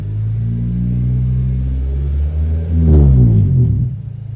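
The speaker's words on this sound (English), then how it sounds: "I'll rev the motor so you can see that." A car engine idles with a deep steady rumble, then revs up in one smooth rising surge and drops back to a lower idle, heard loud and close with no talking.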